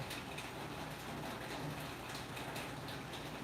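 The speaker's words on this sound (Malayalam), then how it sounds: "നല്ല മഴയായി മഴ പെയ്ത് തുടങ്ങിയപ്പോ നിൽക്കാതെ പെയ്യലായി" Heavy rain falls nonstop in a steady, dense wash of noise that stays even and close throughout, with no voices.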